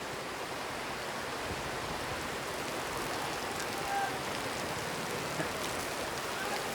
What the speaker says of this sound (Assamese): বৰষুণ আহি আছে এইফালে